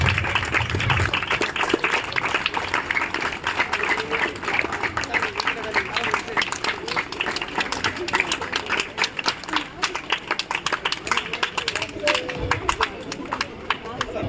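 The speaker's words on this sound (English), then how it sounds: "So let's keep clapping." A college welcome-day audience keeps up continuous clapping during a felicitation, with rapid, sustained hand claps running underneath a speaker's amplified voice.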